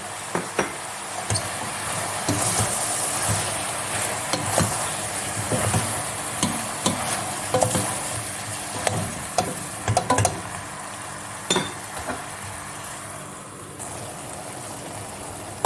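Peppers fry in a pan with leeks, a soft continuous sizzle broken by repeated scraping and clinking as a utensil stirs them, fairly close and without talk.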